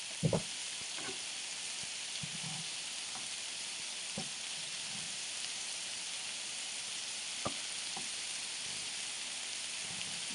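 Ukrainian kotlety meat patties pan-frying, a steady close hiss of oil sizzling throughout, with occasional faint taps of a utensil against the pan.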